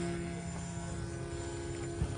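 An RC model airplane takes off at a model airfield show, its small engine giving a steady, continuous droning whine with a sustained hum throughout.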